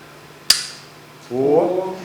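A single sharp, snappy shot rings out, then a low electronic tone rises and holds like a game sound effect.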